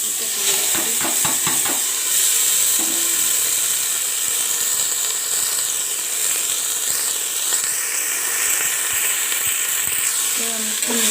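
Mixed vegetables fry with cumin in a pan, giving a steady loud sizzle and hiss throughout, with occasional stirring scrapes and a few clinks of a utensil on the pan.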